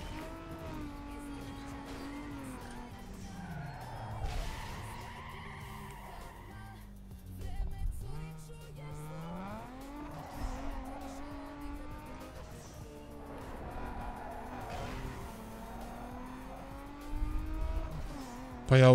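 A street-racing car in Need for Speed Underground 2 revs and accelerates, its engine pitch climbing and dropping through gear changes, with bursts of tyre squeal and skidding on corners, sustained and fairly loud throughout.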